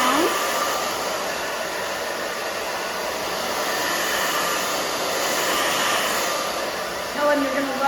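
A handheld hair dryer blows steadily at close range while drying the back of a woman's short hair during a pixie-cut grow-out styling, a constant loud whoosh with a faint voice briefly underneath.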